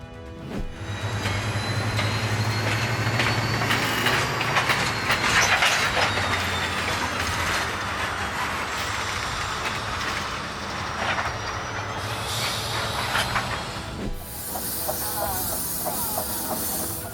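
A battery-powered steel-works locomotive rolls past with a steady hiss, rumbling wheels and occasional squeals and clanks, loud and close throughout, with faint voices underneath.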